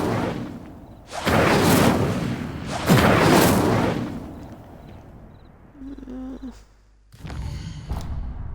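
Incendio fire spell cast in the Hogwarts Legacy video game: two loud whooshing bursts of flame, each lasting about a second, followed by quieter crackling effects and a later shimmering tone.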